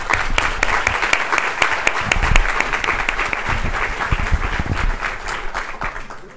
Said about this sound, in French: J'aimerais un tonnerre d'applaudissements pour eux